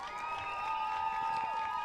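A soccer crowd at a night high school game between McKinney Christian and Brook Hill roars steadily in the distance, a sustained cheer with whistles and shouts rising as spectators get to their feet.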